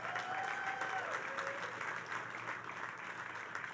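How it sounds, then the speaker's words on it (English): Applause from a groundbreaking crowd for a state senator, steady and fairly distant clapping that carries on throughout, with a faint whistle-like tone gliding over the start. "Let's give her a round of applause."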